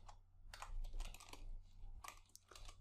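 Code being typed on a computer keyboard: quick, close clusters of clicking keystrokes with short pauses between bursts, fairly quiet and with no voices.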